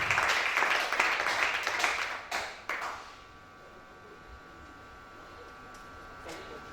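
A church congregation claps and cheers in a loud burst of applause that fades away after a few seconds, leaving a quiet room with a faint tone.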